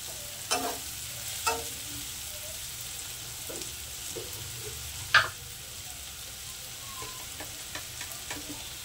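Spices with turmeric and mild Kashmiri chilli powder sizzle softly in a pan, with a few sharp scrapes and clinks of the stirring spoon over a low, steady fry.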